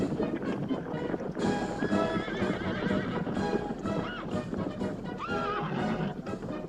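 Horses clip-clop in a busy battle scene from the 1979 film Zulu Dawn, hooves thudding steadily while several loud neighs and whinnies rise over the commotion, with shouting voices mixed in.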